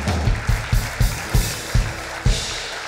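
A television show audience claps in a steady, loud rhythm, about seven sharp beats of unison clapping close by, as a studio crowd applauds a guest who is the father of nine children.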